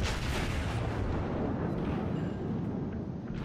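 The battleship South Carolina fires its main guns in World of Warships, a loud continuous roaring boom that fills the whole moment and slowly fades without any voices.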